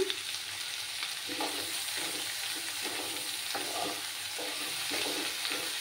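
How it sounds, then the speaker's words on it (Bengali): Turmeric powder, salt and spices fry in a pan for a Bengali katla fish curry, giving a steady close sizzle with periodic soft scraping strokes of a spatula, no voices. "একটু ভাজা ভাজা করে নেব।"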